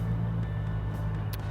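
A curb machine engine runs steadily, a low continuous drone that holds close and fairly even through the short stretch without any voices.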